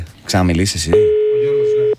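A steady telephone tone sounds for about a second on a radio show as hosts place a prank call, following a brief spoken line.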